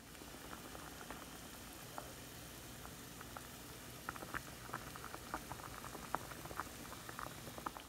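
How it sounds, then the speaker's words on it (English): Pot of water at a rolling boil on a stove, a faint continuous bubbling hiss scattered with small pops and gurgles, without any talk. "I just showed a clip of it boiling on the stove."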